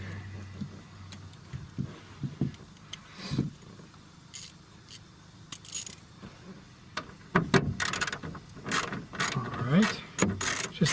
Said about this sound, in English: This is a 1/4" drive ratchet with an 8mm.